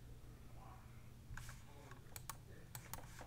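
Fingers tapping out a short word on a computer keyboard, a quick cluster of crisp clicks over a low steady hum, faint and close.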